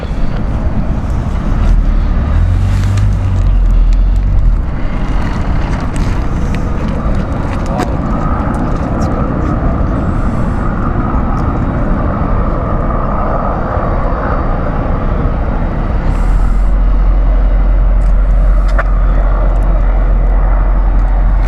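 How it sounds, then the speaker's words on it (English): A landing airliner with an engine sounding faulty gives a loud, steady roar and rumble that fills the whole stretch, with a heavy low drone building near the end, heard outdoors close by. "I think we might have a engine issue there."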